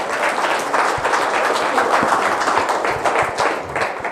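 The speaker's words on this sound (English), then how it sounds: "If you guys can give these guys a round of applause." Audience applause at a product demo and opportunity meeting: steady, dense clapping from a crowd filling the room, sustained evenly for about four seconds without speech.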